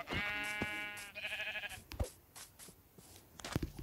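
Sheep in the video game Minecraft give two loud, close bleats, one long and quavering, one shorter, followed by quieter game sounds such as thuds and footsteps.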